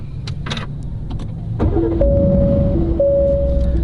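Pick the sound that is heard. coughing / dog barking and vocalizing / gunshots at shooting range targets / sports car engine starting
sports car engine starting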